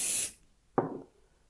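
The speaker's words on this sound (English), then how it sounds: "give the can a little shake," Spray adhesive hisses from an aerosol can onto fabric for a vintage clutch bag in one short, close burst, followed after a pause by a soft thud and rustle.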